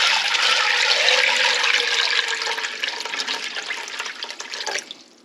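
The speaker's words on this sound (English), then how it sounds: "Then I'm going to add some water." Water is poured from a container into a pot of red beans, a loud rushing splash lasting several seconds that thins into a trickle and stops.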